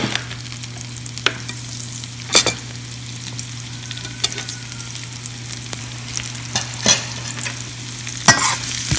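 Spicy moong snack ingredients sizzling in a pan while being stirred, a steady fry hiss under repeated sharp scrapes and clinks of the spoon, close and alone.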